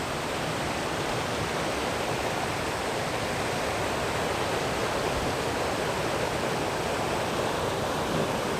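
Rushing stream water tumbling over a small waterfall at a riverside campsite in Malaysia, a steady, dense broadband roar that stays constant and close throughout with no voices.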